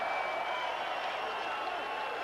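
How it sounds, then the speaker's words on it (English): A boxing crowd cheers and shouts encouragement to a fighter during a bout, a steady dense roar of many voices throughout, with no single voice standing out. "And the crowd wants him to go more, too. You can hear them urging him to hang in there"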